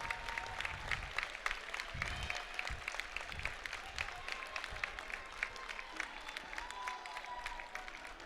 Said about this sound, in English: It's a round of applause from the home crowd for a job well done